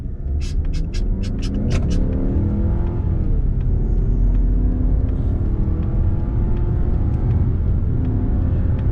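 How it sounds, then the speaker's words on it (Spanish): A 2021 Mazda CX-30 Turbo S Grand Touring accelerates hard under full throttle, a steady loud engine rumble and drone rising gradually in pitch, with brief ticking clicks near the start. "ahí le estoy pisando a fondo y no da más de 1300 revoluciones"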